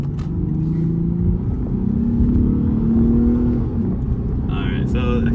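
A Lexus GS 350 fitted with a Borla exhaust rumbles and climbs in revs toward 4,000–5,000 RPM, its deep exhaust tone rising and easing again, with brief voices over it near the end.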